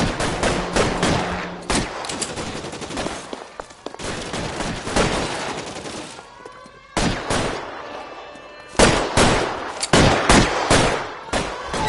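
Bursts of video game gunfire rattle in dense volleys, machine-gun and rifle shots overlapping loudly, with short lulls between clusters and no speech.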